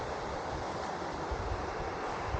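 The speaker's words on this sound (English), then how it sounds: "This is Snowy River at Dalgety." The Snowy River flows steadily at Dalgety, downstream of Jindabyne, making a continuous broadband rush of water that stays even and moderately loud throughout, with some wind-like texture and no voices.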